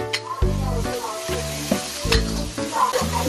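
Ginger and garlic frying in a wok without oil as it is stirred: loud scraping strokes of a spatula against metal over a steady sizzle, repeated in uneven bursts, with no talk.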